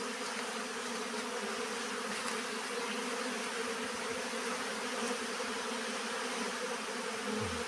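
Honeybees swarming at an apiary in the rainy season, a dense, steady buzz of many insects filling the whole stretch, close and continuous, with no voices.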